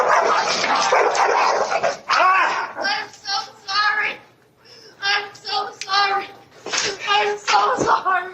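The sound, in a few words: dog barking in a played video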